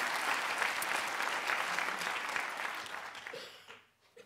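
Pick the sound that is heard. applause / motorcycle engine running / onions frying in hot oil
applause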